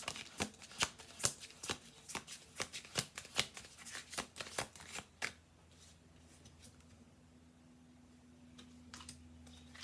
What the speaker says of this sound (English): 1 more shuffle through.